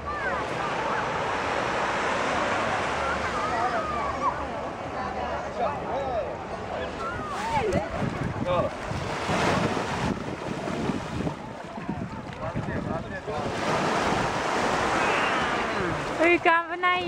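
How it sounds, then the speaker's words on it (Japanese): Wind buffets the microphone while sea waves wash and surge along the shore on a sunny morning, a steady, blustery roar with faint voices mixed into the noise. "今日は朝から海に来ています。"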